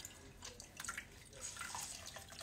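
Water runs and drips in a sink as embroidery film is rinsed and dissolved from a scrap-yarn bowl, a steady close splashing with small drips throughout.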